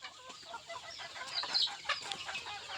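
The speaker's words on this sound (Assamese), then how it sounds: "মুৰ্গী দেখা পাই আছে, সিহঁত আমাৰ ঘৰুৱা লোকেল মুৰ্গী হয়।" Local desi hens kept at home cluck in short, uneven bursts, close and moderately loud over a quiet yard, with no talking.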